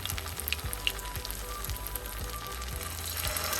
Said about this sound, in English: Let's start frying the cutlets now till they are golden brown.